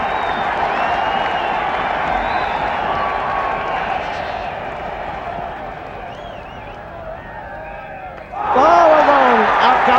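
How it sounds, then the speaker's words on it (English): Cricket crowd at the 1983 World Cup semi-final between India and England roars in a continuous wash of cheering and clapping, swelling sharply near the end, with a commentator talking over it. "Crowd are going absolutely mad, the Indian camp over on the far side"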